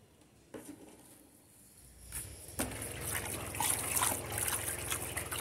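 Ethanol alcohol of 92% or stronger pours in a steady trickling stream into tallow for homemade soap, starting quietly and swelling into a fuller, splashing flow partway through, close by and alone.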